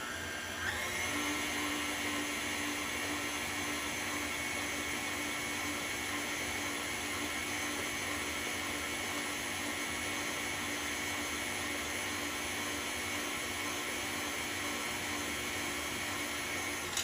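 An electric mixer whirs steadily through pound cake batter, a constant high-pitched motor whine that starts up in the first second and runs on without pause, with no talking.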